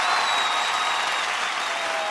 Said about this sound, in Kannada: ಸೊ ಬರ್ಲಿ ದೊಡ್ಡ ಚಪ್ಪಾಳೆ ನಮ್ಮ ಮಜಾ ಭಾರತದ